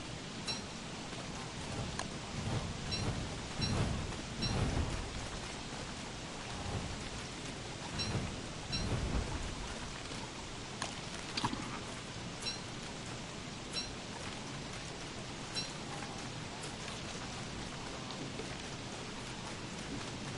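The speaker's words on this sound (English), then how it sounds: "Lightning just struck our tree." A video game thunderstorm: steady rain hiss with rolling thunder swells early on, including a loud rumble around the lightning strike midway, then settling into quieter continuous rain.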